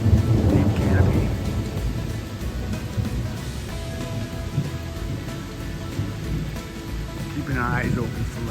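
Thunderstorm over a forest trail under deep tree canopy: a loud rumble of thunder at the start and again near the end over continuous rain, with wind in the background.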